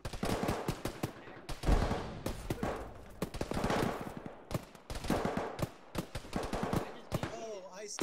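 Automatic gunfire shooting through a wall in an Arma military game: dense bursts of sharp, cracking shots in rapid clusters, loud and close, with brief gaps between volleys and faint voices underneath.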